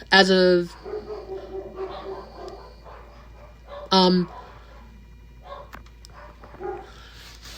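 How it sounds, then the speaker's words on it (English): A dog barks twice nearby, a couple of sharp yaps separated by a pause, while a person talks quietly in the background. "It's my dog's barking."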